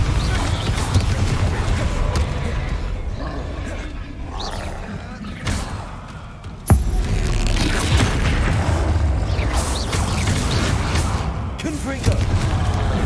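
Spell-casting blasts in the Hogwarts Legacy video game, repeated booming explosions and roaring bursts, loud and dense, with a sharp crack midway, under a voice calling out spell names.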